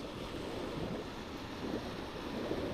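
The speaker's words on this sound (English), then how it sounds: "you get the waves that come in and form their own line just behind it or just along from it" Ocean surf rolling in along a line of steel shafts at the shore, a steady soft wash of breaking water mixed with wind noise, continuous and fairly faint.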